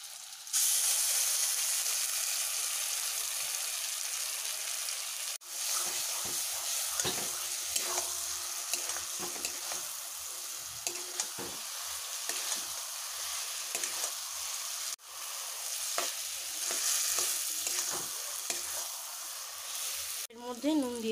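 Sliced eggplant frying in a wok with onion, tomato, capsicum and green chilli, a long steady sizzle with repeated scraping stirs and a brief voice near the end.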